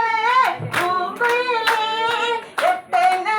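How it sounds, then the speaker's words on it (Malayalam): A crowd at a school alumni reunion gathering bursts into several short rounds of hand clapping, mixed with voices and cheering over a few seconds. "ഒന്ന് കയ്യടിക്ക എല്ലാരും"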